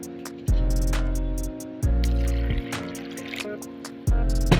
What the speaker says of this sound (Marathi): परत पाणी घालते